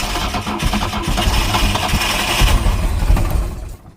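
A boat's engine, just restarted after its fuel line was reattached, runs loud and close with a rough, uneven idle before cutting out abruptly at the end.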